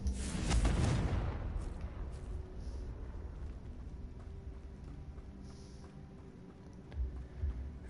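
A Confringo explosive spell cast in a Harry Potter video game, heard as a deep booming blast near the start that fades into a long rumbling tail over low ambient game sound, with a couple of small thumps near the end.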